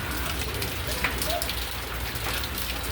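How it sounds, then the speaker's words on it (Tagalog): Steady rain falls, a dense broadband hiss of drops on surfaces that continues evenly throughout without any talking. "Ayan, umulan na po dito sa amin."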